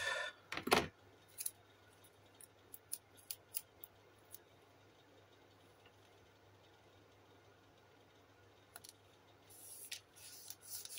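Scissors snipping paper for a handmade FNAF birthday card, a loud close cut at the start followed by a scatter of short, quiet snips and rustles, then a few more crisp cuts near the end.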